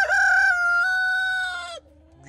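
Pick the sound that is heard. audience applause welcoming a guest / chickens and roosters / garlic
chickens and roosters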